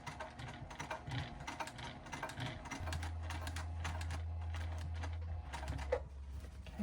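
A sewing machine runs slowly over a thick, multi-layered bag seam, giving a series of close, uneven clicking stitches with a low steady hum partway through.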